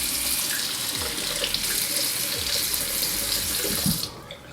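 Tap water runs steadily over touchscreen water-resistant gloves, a loud continuous splashing gush that cuts off abruptly near the end, with no talking.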